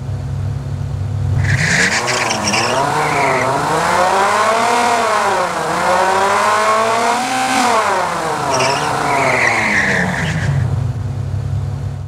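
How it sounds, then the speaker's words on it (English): Synthesized vehicle engine from the Igniter plugin, a loud continuous roar that rises and falls in pitch through revving sweeps, with tire-squeal-like high tones at the start and end and no voices. "So you can hear that Igniter is a vehicle design system."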